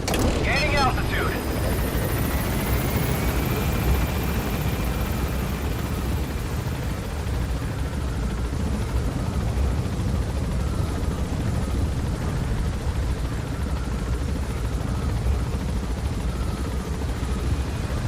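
A helicopter climbs in the Metal Gear video game, its steady, loud rotor roar and engine noise filling the scene without a break, with a brief rising whine near the start.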